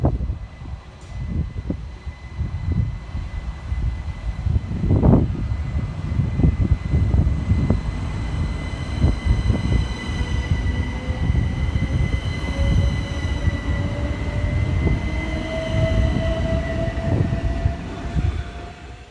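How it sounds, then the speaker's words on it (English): Southern Class 377 electric multiple unit 377439 pulling out of Purley station in South London, loud rhythmic clacking of wheels over rail joints with a rising electric motor whine as it gathers speed, no voices. "we see the departure of 377439, working the 1524 Southern service from Reigate through to London Victoria"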